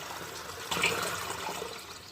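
Water runs into a container at home, a faint, steady trickling and pouring that swells briefly partway through, heard on its own without talk.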